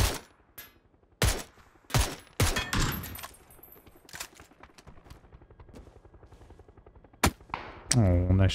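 Gunfire in the PUBG battle royale game: sharp, loud single shots and short bursts ring out at irregular intervals, with quieter distant firing in between and a brief burst of noise near the end.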